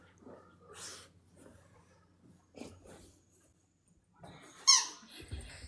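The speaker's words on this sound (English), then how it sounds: "No, she's playing with her squeaky toy." A dog plays with a rubber squeaky toy, producing a few short squeaks and sniffs spread out over quiet pauses, ending with a sharp, louder squeak close by.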